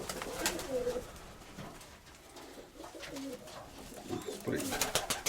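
Pigeons in a loft coo softly and repeatedly, with rustling and faint background noise between the low calls.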